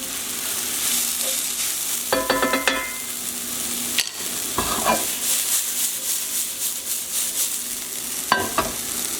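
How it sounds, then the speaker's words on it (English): Onions frying with balsamic in a pan, a steady close sizzle with bursts of scraping as they are stirred, no talking. "We're going to mix it all nicely. Make sure the balsamic's really infusing the onions."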